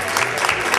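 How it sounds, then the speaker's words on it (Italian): Theatre audience in Ficarra, Sicily, applauding a comedy duo's performance: a dense, steady wash of clapping throughout, fairly loud and close, with no clear talk over it. "Applauso!"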